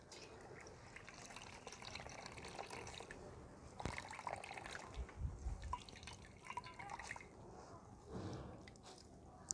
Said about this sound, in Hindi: अब अच्छी तरह से इनका पानी निचोड़ लेना है